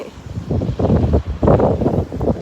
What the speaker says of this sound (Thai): วันนี้แดดออก แต่ลมแรงค่ะ